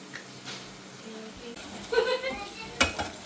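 Food fries in a pan with a faint sizzle and a few stirring scrapes, close but quiet, with a brief louder clatter near the end and a voice speaking softly in the background.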